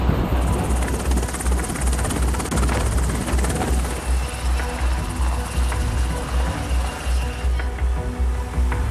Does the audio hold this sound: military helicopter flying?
yes